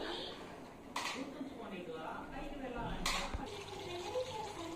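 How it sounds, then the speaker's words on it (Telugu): Water poured into a bowl indoors, two brief splashing pours about two seconds apart over a soft background hiss, fairly quiet and close. "ఇప్పుడు నేను కలిసి పెట్టుకున్న గిన్నెలో వాటర్ వేసేసి వేస్తున్నాను"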